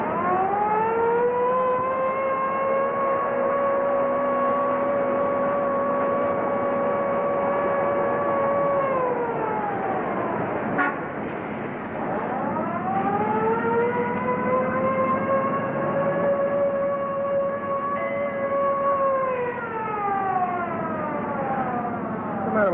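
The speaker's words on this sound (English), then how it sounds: "It's in the siren." A wailing vehicle siren rises and falls in long sweeping cycles, loud and close, dipping briefly midway before climbing again, with a car engine rumbling underneath.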